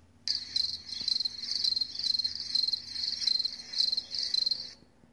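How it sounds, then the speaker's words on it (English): Dense, steady chirping of crickets, high and shrill, pulsing in quick trills after a brief quiet start and continuing to the end. "Nothing but crickets chirping."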